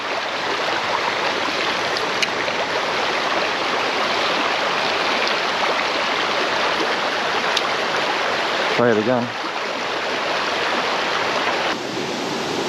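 A mountain trout creek flows steadily in a broadband rush at the inflow into a deep pool, with a brief splash-like disturbance near the end; a voice speaks briefly.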